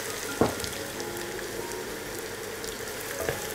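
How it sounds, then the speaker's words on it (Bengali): Chopped onion frying in hot soybean oil for a lentil and gourd-greens dish, a steady soft sizzle with a couple of brief louder crackles, heard alone at close range. "পেঁয়াজটাকে নেড়ে চেড়ে ভেজে নিব।"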